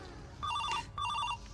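A telephone rings in two electronic bursts with a short pause between them, close and clear over a quiet room.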